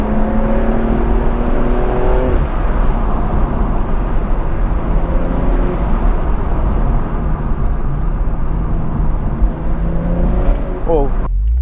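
BMW M235i engine accelerating hard on back roads, a loud, close interior drone with rising gear sweeps, a shift pause mid-run and another climb near the end, while people talk over it.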